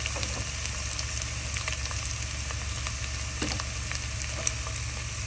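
Garlic and ginger fry in a pan for a Kerala-style white tuna curry, giving a steady, dense sizzle that carries on unbroken, with a few faint clicks from stirring and a low hum underneath.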